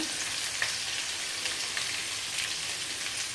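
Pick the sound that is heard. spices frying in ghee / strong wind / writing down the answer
spices frying in ghee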